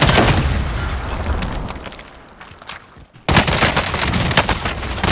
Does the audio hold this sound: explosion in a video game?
yes